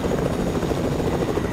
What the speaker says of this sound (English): So now I'm in the helicopter, and I am flying over to the yacht.